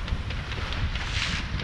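Wind on a sailboat at sea during an offshore race leg from Les Sables toward the Azores, a steady roaring rush buffeting the microphone with dense low rumble and no talk.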